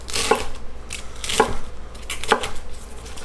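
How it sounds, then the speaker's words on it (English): Knife roughly chopping cabbage on a cutting board at a slight angle, three sharp, evenly spaced cuts about a second apart, close and clear with no talk. "So I'm going to just roughly chop it like so, on like a slight angle."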